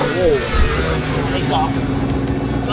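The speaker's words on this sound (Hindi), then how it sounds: "स्टार्ट हो गई गाड़ी" A supercar engine running after starting, a steady low rumble with a brief rise near the start, loud and close, with people talking over it.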